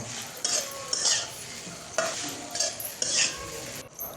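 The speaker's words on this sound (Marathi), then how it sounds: "तर हे सगळं मिक्स करून घ्यायचं, परतून घ्यायचं" Sabudana khichdi sautéed and stirred in a pan, with repeated scraping strokes roughly every half second over a steady frying sizzle, close and fairly loud.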